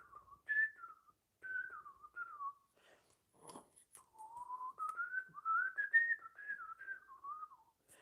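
Whistled melody from a single person, clear and close, with sustained pitched phrases and slides separated by short pauses, plus a brief clatter partway through; no talking.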